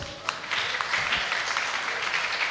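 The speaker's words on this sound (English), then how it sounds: "And give applause for our speakers." Attendees of an international conference on herbs and toxicants applaud the speakers, a short run of moderate clapping with a few sharp individual claps standing out.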